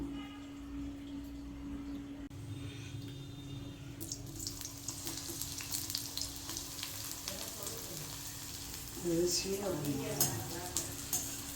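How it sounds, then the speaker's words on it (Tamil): Bitter gourd slices fry in hot oil until brown, giving a steady sizzle with occasional stirring clatter and bubbling that grows livelier toward the end. "கொஞ்சம் ப்ரௌன் கலராக வறுத்து எடுத்துக்கிறோம்"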